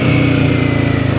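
Royal Enfield Guerrilla 450 motorcycle engine pulling hard under acceleration, a steady close, loud throbbing drone with a pulsing low rhythm and no talk over it.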